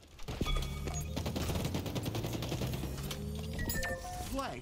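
Dense, sustained automatic gunfire from a Halo Infinite ranked multiplayer match, loud and continuous with overlapping bursts and a few sharper shots near the end.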